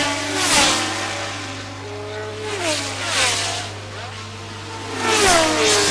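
Formula 1 race cars in 1977 at Dijon: high-revving engines rise and fall in pitch as cars pass in waves, with a steady hum underneath and a commentator speaking over them.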